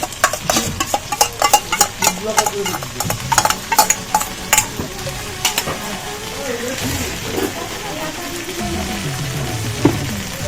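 Ginger garlic paste is stirred into boiled potatoes in a pan: a quick run of sharp scraping taps against the pan, then softer stirring under a low sizzle, with people talking in the background.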